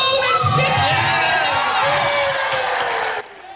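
A crowd at a charity auction run by Oprah Winfrey cheers and whoops loudly and continuously, a dense roar of voices and shouts that cuts off abruptly near the end.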